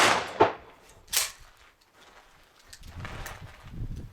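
A shotgun fires Remington managed recoil buckshot at an outdoor range: a few sharp, booming reports, each trailing off in a short echo, with quieter rustling and low rumble between them.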